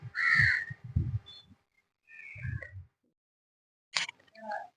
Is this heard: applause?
no